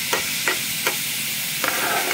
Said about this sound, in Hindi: अब देखिए टोमेटोज ऐड कर दिए, अब इसको भी अच्छी तरीके से मिक्स कर लेंगे।